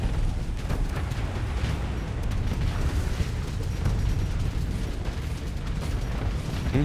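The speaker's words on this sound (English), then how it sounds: "There's a lot of explosions." Explosions in a space video game, a dense continuous rumble of booms, pops and crackling bursts layered over one another, loud and unbroken throughout with no talking.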